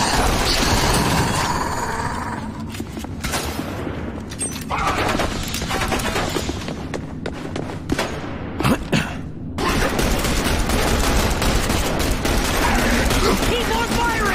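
Dense gunfire from The Bureau: XCOM Declassified, sustained bursts and booms of a firefight with mechanical clatter, loud and continuous with a brief lull in the middle, shouted voices mixed into the battle.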